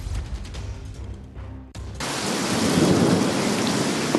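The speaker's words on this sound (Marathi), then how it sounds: "पुणे शहरातील बहुतांश भागात जोरदार पाऊस झालाय." Heavy unseasonal rain pours down during a daytime downpour in Pune, a steady loud hiss of rain that grows stronger after a deep rumble of thunder, with no talking.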